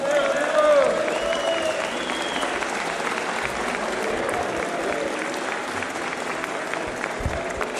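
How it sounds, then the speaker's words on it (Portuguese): Sustained applause in the Brazilian Chamber of Deputies plenary after a pension reform vote, a loud, even wash of clapping with crowd voices and shouts mixed in. "uma grande salva de palmas para o nosso presidente"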